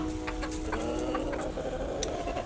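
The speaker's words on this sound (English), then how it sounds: "I think he's just a socially awkward rooster" A rooster clucks in a winter coop among bantam hens, with several short, close, choppy clucks over a steady background hum.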